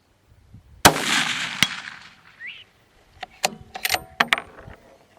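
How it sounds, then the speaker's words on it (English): A single sharp, loud rifle report rings out and decays at a 200-yard range while shooting through a Nikon Buckmaster 4.5-14x40 scope, followed after a quiet gap by several crisp metallic clicks and clacks of handling. "we're going to go ahead and shoot at 200 yards."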